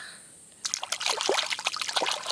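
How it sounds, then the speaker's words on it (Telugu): A stone dug from a farm field is rinsed under a trickle of water, giving close, continuous splashing and dribbling that starts suddenly after a quiet moment and continues without a break. "వాటర్లో కడుగుతున్నాను"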